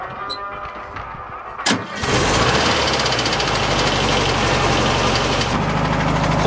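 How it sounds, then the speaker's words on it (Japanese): The rear-mounted engine of a 1970 Volkswagen bus camper catches after a brief crank and settles into a loud, steady, rattly idle close by. "後ろにこんなエンジンがあります。"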